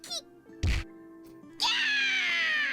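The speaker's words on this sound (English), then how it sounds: "I hear a thud and scream in the distance." A dull thud followed by a sustained, bright scream in the Rewrite+ visual novel game, the impact short and heavy, the cry loud and drawn out over a steady low background tone.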